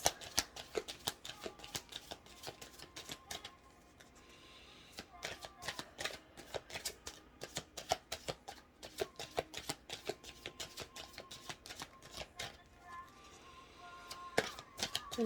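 Rapid riffling and snapping of playing cards being shuffled, in quick bursts of crisp clicks with short pauses between, close up.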